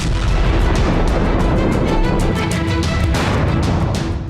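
Israeli air strikes bombing Beirut at night, heavy explosions rumbling continuously with repeated booming blasts and bursts, loud and dense throughout, no voices.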